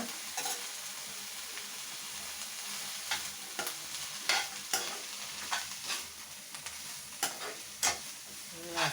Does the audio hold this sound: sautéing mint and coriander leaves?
yes